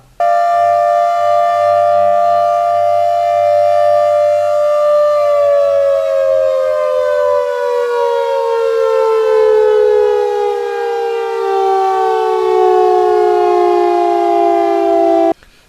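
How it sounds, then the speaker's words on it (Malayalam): A warning siren mounted atop a dam wails during a morning trial run, one loud continuous tone that holds steady, then slowly slides lower in pitch for about fifteen seconds, heard alone. "രാവിലെ 11 മണിക്ക് ഡാമിന്റെ മുകളിൽ സ്ഥാപിച്ചിരിക്കുന്ന സൈറൺ മുഴക്കിയത്"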